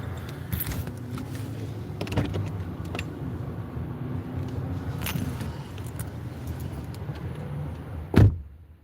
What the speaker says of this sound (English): let me get into my car right quick.